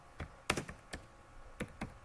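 Computer keyboard being typed on to name a new folder, a few quiet scattered key taps in two short bursts, close and soft, with no talking.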